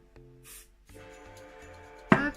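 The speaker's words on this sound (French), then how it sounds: "je vais sprayer directement sur un pinceau" Kiko cosmetic setting spray is spritzed straight onto a makeup brush, giving one brief, soft hiss in a quiet room, followed later by a small clunk.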